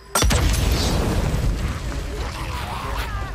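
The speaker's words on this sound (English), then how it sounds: "Oh, I threw a pipe bomb." A pipe bomb goes off in the zombie-survival video game Days Gone, giving a loud, sudden boom followed by a sustained rumbling, crackling tail that lingers for several seconds.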